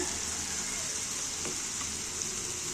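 Home-made achappam, the Christmas rose cookie, frying in hot oil makes a continuous soft, even sizzle that stays fairly faint throughout. A couple of small taps break in and no one speaks.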